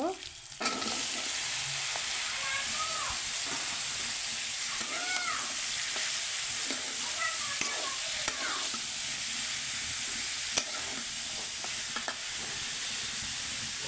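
Cumin, cauliflower and potato fry in a pan with a steady, bright sizzling hiss throughout, while a few soft clicks and light stirring knocks come through now and then.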